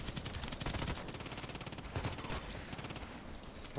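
Dense rapid gunfire from a video game, continuous bursts of shots crackling across the whole stretch, loud and close with no talk over it.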